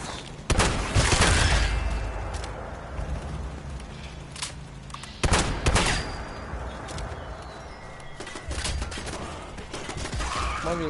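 Gunfire in the post-apocalyptic video game Fallout 76 crackles in scattered bursts at a moderate distance, with sharp shots around the first, fifth and eighth seconds amid game ambience and mechanical noise.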